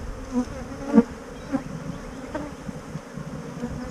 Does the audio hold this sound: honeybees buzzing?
yes